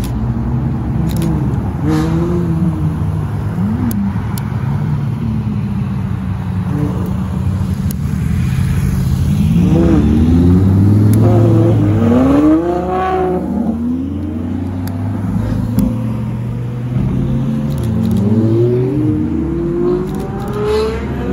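Hypercars roll into a car meet, one engine after another revving loudly up close with sharp throttle blips and rising, falling whines as each car passes, a steady low engine rumble underneath throughout.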